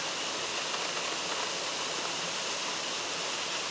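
Kondilla Falls waterfall gives a steady, dense broadband rush of falling water, constant and fairly close with no other sounds.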